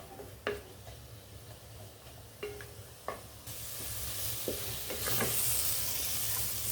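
Ground spices and masala, coriander, cumin and fennel, sizzle and fry in a pan for an Indian chicken soup, with scattered stirring clinks and scrapes; the frying hiss swells louder in the second half.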